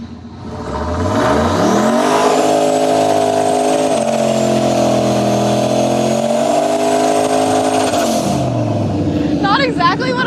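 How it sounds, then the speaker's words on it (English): A hot rod car at a garage holds a loud, sustained engine rev during a smoky burnout, the pitch climbing in and dropping away near the end, with brief voices after the engine cuts. "please do a nice smoky burnout"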